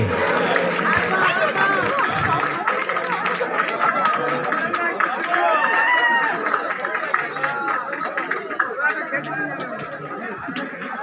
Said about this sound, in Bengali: আমরা একটু হাততালি দিই সবাই মিলে একসাথে